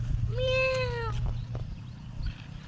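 A single clear, drawn-out cat meow rises and falls near the listener over a low steady background hum.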